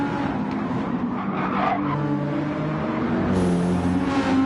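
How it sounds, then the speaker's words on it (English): Tires squeal under hard braking and cornering in the Gran Turismo 7 racing game on the Deep Forest track, a sustained tonal screech over a loud engine drone that swells and fades, with no talk. "You can hear the tires squealing under some hard braking and hard cornering."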